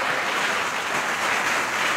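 Church congregation clapping during a Sunday service, a dense, steady roar of many hands applauding together that stays loud and even throughout, with no voices standing out.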